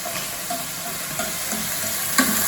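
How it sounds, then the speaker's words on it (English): Chicken livers sizzle and crackle steadily in a hot pan, with a few louder pops and spits along the way. "And then literally just sizzle them for a moment or two on the other side"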